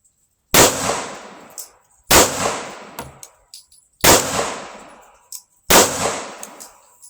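Four single shots from a Smith & Wesson M&P 2.0 pistol fed from a 30-round ETS magazine, each a sharp, loud crack followed by a short ringing decay. They come at an even pace about one and a half seconds apart, with no voices.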